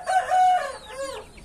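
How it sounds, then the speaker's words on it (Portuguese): A calm rooster crows once nearby, a clear drawn-out call that rises, holds and then breaks into a shorter falling tail, standing alone without voices. "Esse galo é um galo sossegado."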